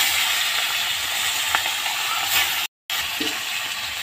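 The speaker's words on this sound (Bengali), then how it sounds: "এবার আমি মাছটা ভেজে নেব।" Fish rubbed with salt and turmeric fries in oil in a kadai, giving a steady broadband sizzling hiss throughout with a brief dropout partway; no talking.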